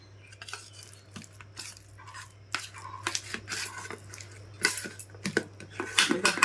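Hand-mixing a taro leaf and moringa leaf bharta with raw mustard oil and chopped raw onion, giving soft squishing and light clinking handling sounds in bursts over a steady low hum.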